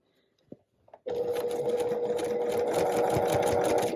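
Sewing machine stitching curved fabric pieces for a New York Beauty quilt block, starting after a few faint clicks and then running as a steady, close, continuous whirring hum to the end.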